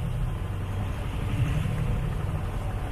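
A sailboat cruising under engine power off a rocky cape, its motor droning steadily and low at close range with a broad wash of water and wind noise, no voices.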